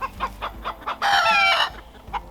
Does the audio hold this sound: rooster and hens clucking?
yes